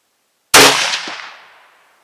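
A single sharp shot from an LA 102 rifle cracks out after a moment of silence while sighting in a scope, then its echo rings and fades over about a second.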